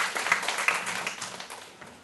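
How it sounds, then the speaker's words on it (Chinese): A small audience at a lecture claps to welcome a speaker, giving brief, light applause that fades quickly. "让我们一起鼓掌欢迎陈之俊陈教授。"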